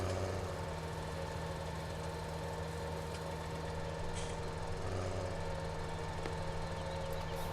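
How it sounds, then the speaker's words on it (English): A tractor engine in Farming Simulator 17 drones steadily and evenly throughout, a low continuous hum with no talk. "I wish it would leave my engine running."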